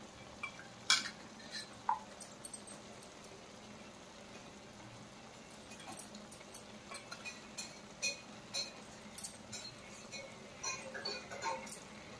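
Chana dal and ridge gourd curry being stirred in a pan with a metal spoon, giving faint, scattered clinks and scrapes against the pan over a quiet sizzle, with no talking.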